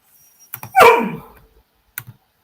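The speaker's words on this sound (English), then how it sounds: "Sorry about my dog." A pet dog lets out one loud, close bark with a couple of faint yips around it, in a quiet indoor room.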